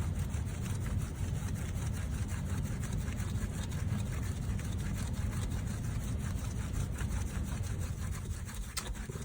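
A rubber stamp being scrubbed clean, a continuous rapid back-and-forth rubbing at close range, steady and moderately loud for the whole stretch without talk.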